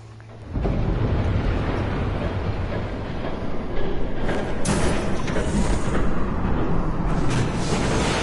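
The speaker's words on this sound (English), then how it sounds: "There's a train coming." A train passes in the Batman Telltale game, bursting in as a loud rumbling roar with rattling wheel clatter that stays heavy and steady for several seconds, no voices over it.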